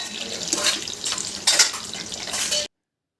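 Soya chunks (meal maker) bubble and crackle as they deep-fry in hot oil for a crispy Soya 65, a loud, continuous hiss with brighter fizzing surges that cuts off abruptly near the end.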